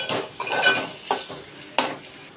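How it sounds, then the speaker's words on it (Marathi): Half a spoon of garam masala is sautéed in a hot pan, a brief bright sizzle followed by a few scraping strokes and knocks of a spoon against the metal, close by. "अर्धा चमचा गरम मसाला घातलाय, आपण परतून घेऊया"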